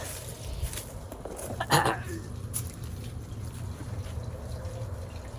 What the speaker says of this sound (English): The faucet's not coming out like it should.